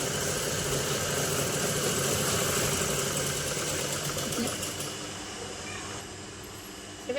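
A sewing machine stitches piping onto fabric with a steady, close motor whir that runs continuously, then eases slightly toward the end.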